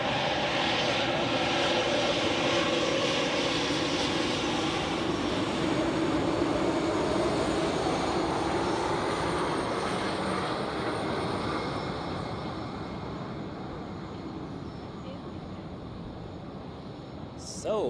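A Turkish Airlines airliner's jet engines roar at Zurich Airport near runway 16, a loud, steady broadband rumble that holds for several seconds and then gradually recedes.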